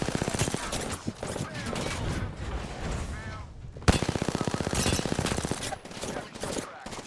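Rapid automatic gunfire from the battle royale game Apex Legends rattles in long bursts with a brief pause midway, loud and close, with voices faintly underneath.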